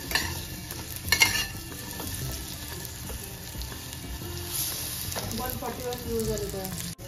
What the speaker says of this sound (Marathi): तूप टाकायचं आणि जरा परतून घ्यायची